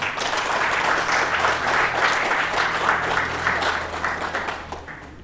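An audience at an ambassador's reception in Illinois claps steadily, a dense, even burst of applause from many hands that fades slightly at the end.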